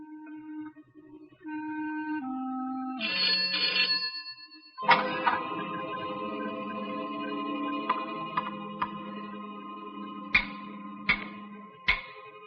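A telephone rings in an old Malayalam film scene, in repeated tonal bursts, starting with a few stepped beeps and then a sustained ringing that continues with sharp clicks, fairly close.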